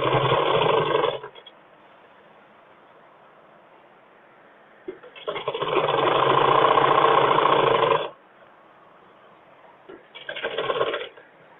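A sewing machine stitches a school uniform skirt in three bursts of rapid mechanical whirring, a short run, a longer one of about three seconds, then another short run, with near silence between.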